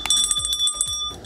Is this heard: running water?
no